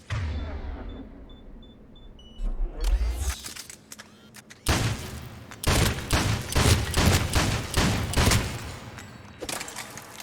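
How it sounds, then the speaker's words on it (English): Shotgun blasts in the Mass Effect 3 Legendary Edition video game on the planet Thessia, a rapid string of loud, close booming shots with short gaps, following a quieter stretch of game ambience. "Test out the shotgun."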